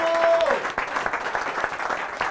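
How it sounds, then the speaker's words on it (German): An audience at a live talk show applauds as Dirk Felten is welcomed on stage, a short burst of clapping that follows a trailing tone and settles into scattered claps. "Applaus!"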